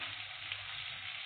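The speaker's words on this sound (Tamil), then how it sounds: "பூண்டு பல்லும் வரமிளகாவும் சேர்த்து கிளறி விட்டுடலாம்." Garlic cloves and dried red chillies are stirred in hot oil in a pan, giving a steady, close broadband sizzle that holds evenly throughout with no talk.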